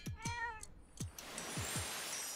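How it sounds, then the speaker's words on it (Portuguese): A cartoon cat in the video game Zelda: Echoes of Wisdom gives several short, high meows in quick succession, followed by a bright shimmering chime. "Gatinho."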